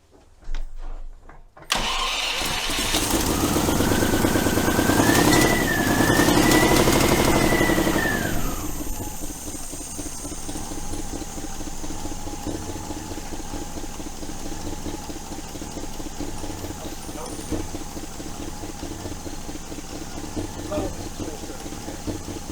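A 1971 Range Rover engine, running without choke, cranks and catches, revs up for several seconds, then settles into a steady, slightly uneven idle that carries on loudly to the end.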